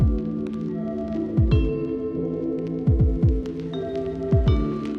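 A Toyota 70 Series diesel on a tuned map idles lumpily, throbbing in uneven low thumps about every second or two over a steady hum, close and clear with no talking.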